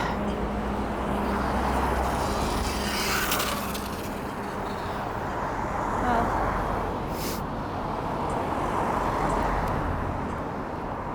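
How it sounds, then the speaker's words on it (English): Cars passing on a Stockholm city street at lunchtime, a steady traffic rumble with swells as vehicles go by, heard while walking with occasional voices nearby. "Just wait for the cars."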